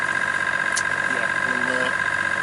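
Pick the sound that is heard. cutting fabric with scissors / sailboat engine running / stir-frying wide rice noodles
sailboat engine running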